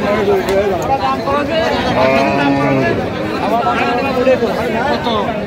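Cows and calves lowing at close range amid a busy crowd of people chattering at a cattle market, with voices and moos overlapping continuously.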